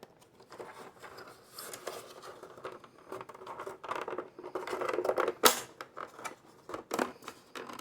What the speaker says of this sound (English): You hear those snaps, everything's clicking in.